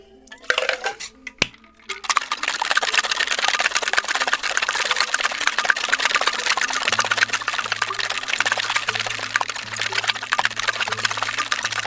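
A cocktail mixed with simple syrup rattles in a shaker after a few clinks, a continuous loud rhythmic shaking of ice that fills the space, with a low steady hum underneath.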